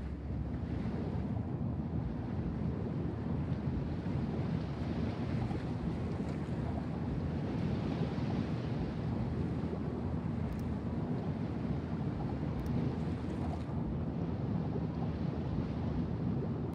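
A warship in World of Warships runs its engine at full power, a continuous broad roar mixed with wash and wind-like rushing that stays steady throughout.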